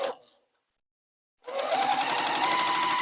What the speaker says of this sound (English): we'll just keep going down this first row, sewing them together all the same